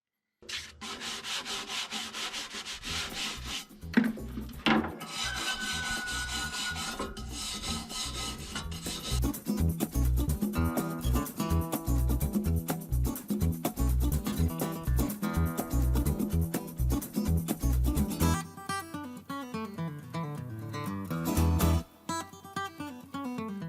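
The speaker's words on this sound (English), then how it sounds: "I used some CLR, a scrub brush, and a wire brush to give it a good cleaning" A scrub brush and a wire brush scour surface rust off a wood stove with rapid, rhythmic scratching strokes that are close and steady and pause briefly near the end, with no voices.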